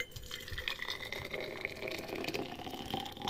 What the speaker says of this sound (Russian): Наливаем кипяток.